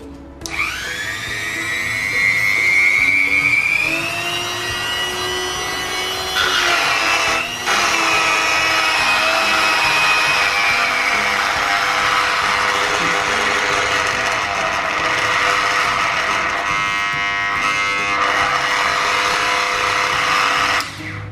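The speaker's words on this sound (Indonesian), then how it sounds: "untuk yang pertama, dia suaranya ngerotok, jadi seperti ini," A Mollar mini electric grinder (tuner drill) with a loose bolt or bearing fault runs continuously at close range, a high whining motor tone with a rattling, knocking buzz that rises slightly in pitch and stays loud alone throughout.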